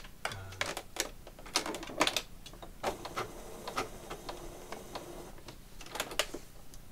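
Sewing machine stitching through paper, its needle gummed with glue and skipping stitches, giving off fast irregular clacking bursts of mechanical taps and clatters close by.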